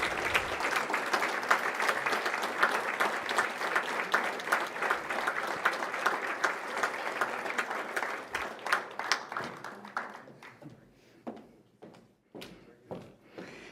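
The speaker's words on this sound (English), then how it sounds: "A big round of applause for our recipients." An audience at a scholarship gala ceremony applauds the award recipients, with steady dense clapping that thins out into scattered individual claps and fades near the end.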